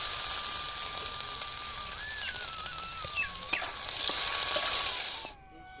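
Ground spice paste hitting hot oil with fried garlic for a Bengali dudh kochu shag dish, a steady close sizzle and crackle with a faint tone drifting above it, cutting off near the end.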